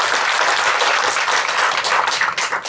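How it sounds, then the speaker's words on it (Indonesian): Brief burst of audience applause at an Indonesian community talk event, full and continuous clapping from a crowd filling the room. "Sekali lagi boleh tepuk tangan buat Rumah Semesta"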